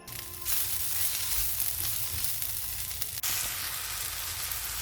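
A pinch of asafetida sizzles in hot oil in a pan while cooking chicken curry with cauliflower: a steady, even frying hiss that holds throughout, with one brief click partway through.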